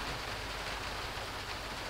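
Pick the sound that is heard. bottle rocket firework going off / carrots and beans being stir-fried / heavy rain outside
heavy rain outside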